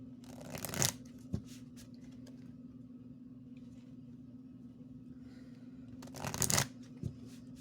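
Message cards are shuffled for a card reading. Two brief papery riffles stand several seconds apart, with only a low steady hum between them and no speech.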